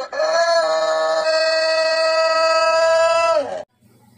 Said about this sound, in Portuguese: Quem já foi acordado por um galo de manhã no domingo sabe a raiva que dá.